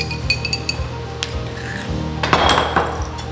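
Metal utensil clinks against a glass bowl as tuna and avocado salad with cucumber is stirred with olive oil, a run of light, irregular taps and scrapes up close with no talking.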